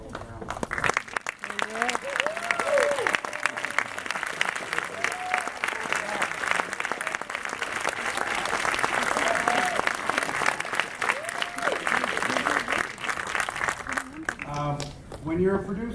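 A film premiere audience breaks into sustained applause for the movie's backers, a thick wash of clapping with scattered cheers and voices running throughout, swelling slightly in the middle before tapering off.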